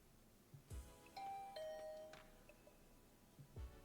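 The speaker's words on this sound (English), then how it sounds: "I rang her doorbell and waited for a bit, but Darmi never answered." A two-tone doorbell chime rings in the video game The Hundred Line: Last Defense Academy, a clear ding-dong preceded by soft thuds, followed by a quiet pause and another thud.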